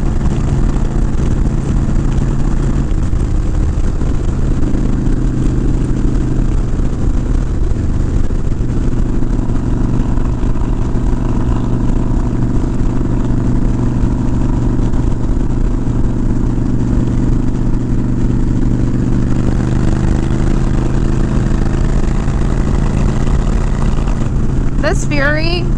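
A motorcycle engine hums and rumbles steadily while the Fury is ridden, a loud continuous drone with wind noise and the rider talking over it.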